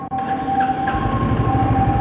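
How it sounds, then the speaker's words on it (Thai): A 2023 Royal Enfield Classic 350 motorcycle with its stock exhaust runs close by, producing a loud, steady low thumping beat with a faint whine above it. "มาฟังเสียงท่อคันนี้กัน"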